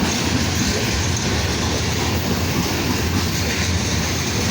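A long freight train hauled by three locomotives with three distributed power units rolls past close by, a dense steady roar of wheels and cars with clickety-clack over the rails and faint wheel squeal.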